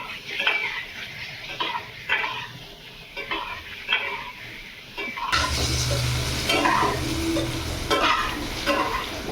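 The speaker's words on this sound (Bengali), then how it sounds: "এবার আমি ভালো করে ভেজে নেবো।" Potatoes fry in oil with salt and turmeric for a vegetarian aloo dum, a steady sizzle swelling louder midway as the pan is stirred, with scraping and clinks of a spatula against the pot.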